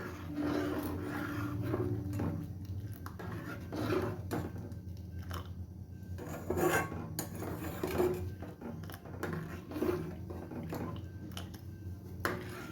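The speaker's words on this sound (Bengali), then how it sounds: "এ দিয়েই সাথে সাথে কিন্তু হাতা দিয়ে নেড়ে দেবেন" A ladle scrapes and stirs milk and rice in a pot for shahi firni, with soft irregular swishes and light metallic knocks at close range.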